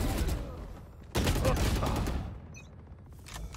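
Rapid bursts of video game gunfire crackle in quick volleys, some heavier and near, others thinner, with short pauses between and a faint voice underneath.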